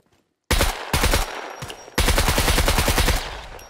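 Gunfire in the survival video game SCUM: after a brief silence, a loud automatic burst erupts, pauses, then a second sustained rapid volley follows, dense and close, with no talking.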